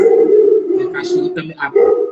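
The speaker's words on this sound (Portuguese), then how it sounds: "minha cachorra usando a voz dela para falar" A pet dog vocalizes up close in a long, wavering howl-like moan with changing pitch, as if trying to talk, loud and alone with brief breaks.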